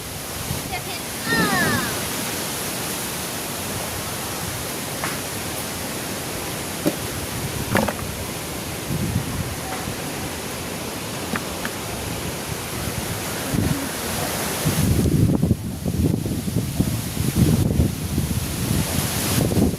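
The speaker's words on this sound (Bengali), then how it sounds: "প্রচন্ড বাতাস।" A strong wind blows outdoors among mango trees in light rain, a steady, rushing buffeting that pounds the microphone and grows louder and gustier near the end. No speech is clear.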